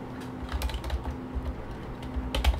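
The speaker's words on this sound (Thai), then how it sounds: "แล้วก็พิมพ์ชื่อไฟล์ไป" Quick, light keystrokes tap out a file name on a computer keyboard, a soft irregular patter of close clicks over a faint background hum.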